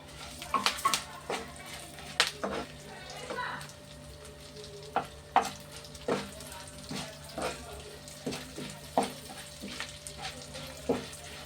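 Urad dal, chana dal, curry leaves, mustard seeds and cumin frying in oil, a busy sizzle broken by repeated stirring scrapes and clinks of a spoon against the pan, close and moderately loud, with no talking.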